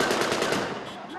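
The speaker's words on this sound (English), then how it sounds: "NTC fighters in Sirte were joyously firing gunshots in the air." Rapid, loud machine gun fire in Sirte, Libya, fired into the air in celebration, a dense continuous burst of shots.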